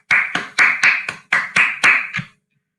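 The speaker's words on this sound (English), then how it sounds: "you cannot hear the audience applauding you. But in their stead, let me do it for everybody." One person clapping their hands, about eight sharp claps at an even pace, close and loud, with the final clap softer before silence.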